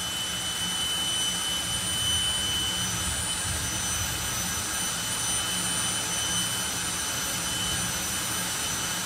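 Fire Force jet car engine roaring at a drag race, a loud, steady broadband jet rush that holds without a break for the whole stretch.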